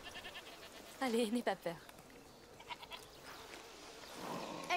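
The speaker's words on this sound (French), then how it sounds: "T'es une gentille chèvre, Lucinda." A goat bleats in A Plague Tale: Requiem, a short wavering cry close by, followed by softer sounds while people talk quietly around it.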